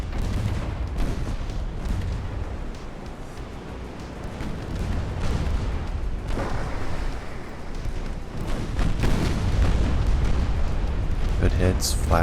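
Naval battle in Ultimate Admiral: Dreadnoughts: continuous rumbling shell fire and heavy booming hits with flash fire, a dense roaring wash that swells louder toward the end, with a voice talking over parts of it.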